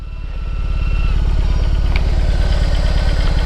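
A BMW cruiser motorcycle engine runs in reverse, holding a loud, steady, close throb with an even low pulse that persists without pause.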